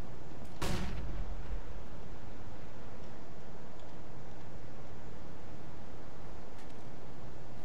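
A flashbang grenade goes off in CS:GO as one sharp, loud burst early on, then steady game ambience hisses on with no talk.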